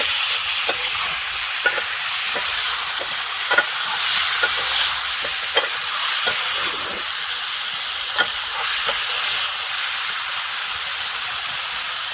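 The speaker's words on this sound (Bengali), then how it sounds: "পোর্ট কলিজাটা সুন্দর করে কষিয়ে তারপরে" Chicken gizzard and liver sautéing in a pan, a loud continuous hissing sizzle with frequent scraping strokes of a spatula stirring at an irregular rhythm, close up.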